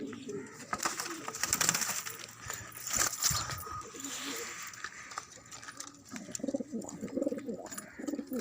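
A breeding pair of Khal pigeons coo softly in a loft setup, their low calls mixed with rustling and shuffling, while people talk nearby.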